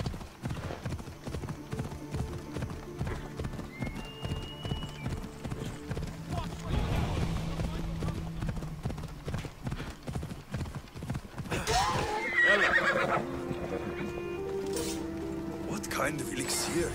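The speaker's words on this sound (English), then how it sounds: "Quickly, horse." Hooves clip-clopping in a steady rhythm with a horse whinnying in Assassin's Creed Odyssey, game-like sound effects layered over, and a person talking over part of it.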